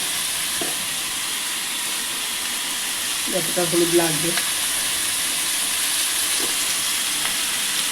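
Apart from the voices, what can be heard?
frying in a pan with yogurt, rice and turmeric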